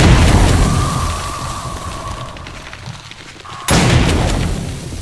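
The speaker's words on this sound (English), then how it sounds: "it does have a wide range on the explosion" A broad, booming explosion in the survival game 7 Days to Die, Alpha 15. A loud blast opens the sound, then it decays into a rumbling tail before a second sharp burst cuts in near the end.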